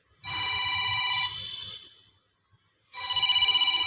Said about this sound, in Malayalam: ഒരു ഫോൺ വരുന്നുണ്ട് കേട്ടോ